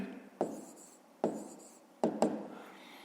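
Pen strokes on paper while a math solution is worked out, four short scratchy bursts, the last two close together, close and quiet.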